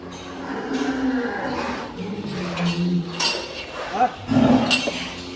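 Cattle and buffalo low in drawn-out moos nearby at a Qurbani livestock market, mixed with people talking and occasional clinks of metal.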